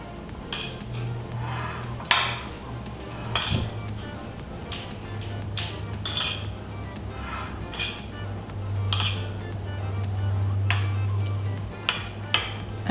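Taboulé ingredients being mixed together in a bowl, with a utensil clinking and scraping against the bowl in irregular, fairly close knocks over a low steady background hum.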